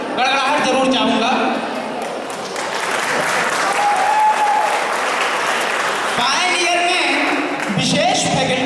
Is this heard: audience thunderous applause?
yes